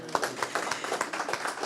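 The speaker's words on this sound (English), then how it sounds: "Let's give him applause" An audience claps for a guest being introduced at a digital summit in Atlanta, with distinct, fairly close hand claps in a quick, uneven rhythm through the short burst.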